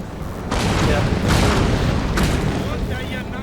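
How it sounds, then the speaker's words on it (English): Artillery bombardment in a Napoleonic-era Prussian versus French battle game, with repeated heavy booms and rumbling blasts rolling close and loud, with a voice talking over them. "I'm just bombarding you right now"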